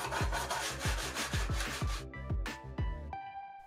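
Sandpaper rubbed back and forth along the edge of an acrylic sheet for a DIY mini ITX computer case, a steady run of rasping strokes about every third of a second, close and fairly loud, ending in a few scattered scrapes and faint clinks.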